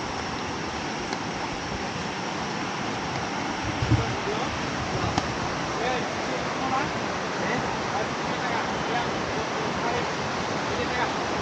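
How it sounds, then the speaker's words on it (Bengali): Rushing stream water in hilly country after rain: a steady, loud, broadband roar of flowing water continues without a break, with small splashes and gurgles on top. "পানির স্রোত আবার শোনা যাচ্ছে"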